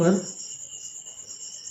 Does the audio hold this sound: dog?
no